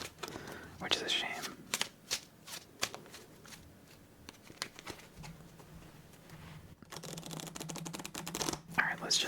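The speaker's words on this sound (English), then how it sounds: "let's just do one more shuffle" Playing cards riffle-shuffled by hand at close range, slightly sticky from use, with repeated crisp bursts of flapping card edges and soft taps, a brief pause, then another louder run of shuffling.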